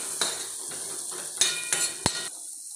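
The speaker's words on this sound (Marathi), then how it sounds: "आता हे छान सर्व मिक्स करून घेऊया" A spatula scrapes and taps against a flat tawa while pasta with Maggi masala is mixed, giving several sharp metallic knocks over a soft, steady sizzle close by.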